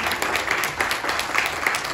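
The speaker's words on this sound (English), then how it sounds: "Give God a hand clap." A church congregation claps during a sermon, a brief, dense burst of many hands applauding together in a reverberant room, steady and moderately loud throughout.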